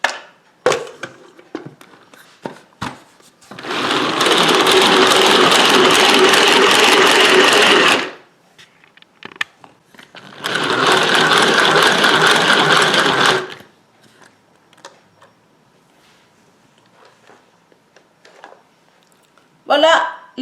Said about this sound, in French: dans le Speedy Chef, j'ai mis 4 blancs d'œufs que je vais monter en neige